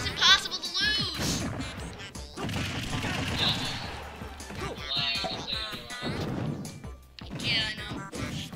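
Cannons on a stage in Super Smash Bros. Wii U fire in repeated loud blasts and crashes, mixed with game effects and a lively voice talking over the action.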